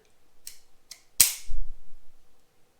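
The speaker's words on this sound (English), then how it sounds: "as far as the trigger reset on the Ruger" A Ruger GP100 revolver's trigger resets with a couple of faint metallic clicks, then one sharp, louder snap, close up and with no talk.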